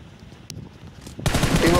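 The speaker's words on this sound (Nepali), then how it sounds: "ऑटोमेटिक गोली चल रहा" Automatic gunfire in the battle royale game BGMI breaks out in a loud, dense burst after a quieter stretch, with rapid shots close by.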